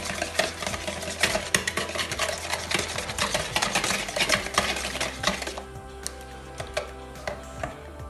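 A whisk or spoon works eggs and sugar in a bowl for pancake batter, making rapid rhythmic clinks and scrapes up close. The strokes ease into lighter, sparser taps near the end.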